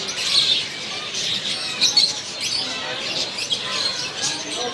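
Ring-necked parakeets and other caged birds at Saddar bird market give repeated sharp chirps and squawks at moderate distance, with crowd murmur and people talking beneath.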